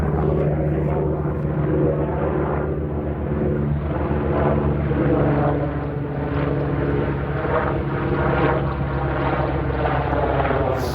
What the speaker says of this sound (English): it's a bloody helicopter.